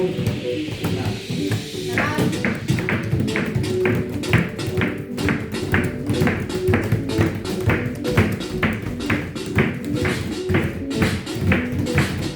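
Rhythmic hand slaps on a tabletop during a children's rhythm game, a steady series of sharp, fairly loud taps repeating throughout, with faint voices and bell-like tones mixed underneath.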